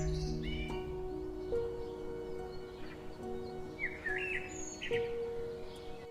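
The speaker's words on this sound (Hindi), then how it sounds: "वहाँ पे एक चिड़िया का घोंसला है और 2 चिड़िया अपने घोंसले में बैठा हुआ है" Two birds in a nest give brief chirps and short tweets, faint and scattered against a quiet background with a steady low tone.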